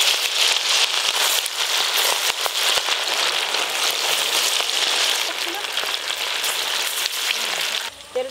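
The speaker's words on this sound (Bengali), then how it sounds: "এবার মাংসগুলো ভালো করে ভেজে নেব।" Chicken meat frying in plenty of hot oil, a dense continuous sizzle and crackle with scattered pops, steady and close, ending abruptly.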